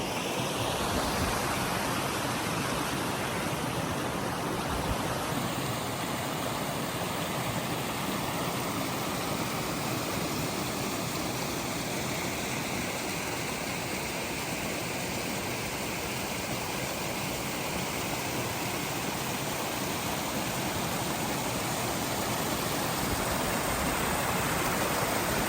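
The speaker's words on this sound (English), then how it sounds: "there's a creek that comes through and feeds down to this little waterfall" A creek in an Ozark Mountains forest spills into a small waterfall, producing a steady, dense rush of falling and churning water that stays close and constant throughout, with no voices.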